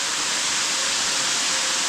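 Steady, dense roar of a waterfall on Waiʻomaʻo Stream in Oahu, Hawaii, a broad continuous rush of falling water heard close and loud, with no other sounds over it.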